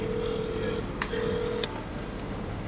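A phone call being placed: a short run of dial tones and keypad beeps, then a steady ringback tone in two stretches, heard under background voices.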